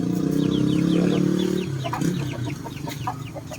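A mother hen clucks nearby in short repeated throaty calls, with higher chick peeps scattered around her.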